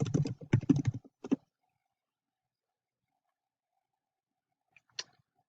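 A burst of quick keystrokes on a computer keyboard types out a search, a rapid cluster of close clicks in the first second or so, then near silence with a single faint tap near the end.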